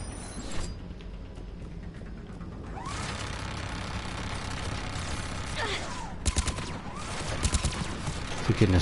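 Gunfire from a weapon with heavy recoil in Mass Effect 3 on Eden Prime, a run of rapid shots amid battle noise and game effects, with a couple of sharper close reports near the end.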